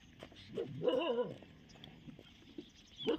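Dogs outside a village home give a few barks and whimpering yelps in short bursts separated by quiet gaps, moderately distant and fairly faint.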